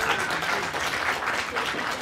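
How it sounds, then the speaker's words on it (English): An audience applauds at the close of the last session of a course, with steady, fairly soft clapping from a group continuing for about two seconds. "Round of applause for Casey."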